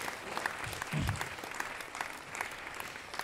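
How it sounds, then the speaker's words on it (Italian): A stand-up comedy crowd in Viterbo claps quietly and steadily throughout, a soft even patter heard from a distance with a brief vocal murmur near the start. "Fate applauso adesso."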